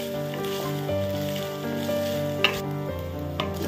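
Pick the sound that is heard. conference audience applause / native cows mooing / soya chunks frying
soya chunks frying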